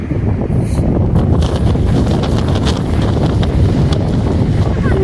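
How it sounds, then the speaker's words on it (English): Strong wind blows around a horse outdoors, a loud, steady rumble of gusts buffeting the microphone for the whole stretch with no pause. "It's windy."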